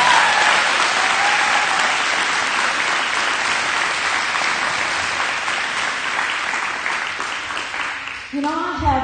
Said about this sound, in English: I'd like to give a round of applause to these teachers who are exceptional.